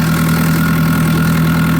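Farm tractor idling during slug-pellet spreading on a wheat field, a steady, loud, continuous drone with a strong low hum and no change in pitch or rhythm, no voices.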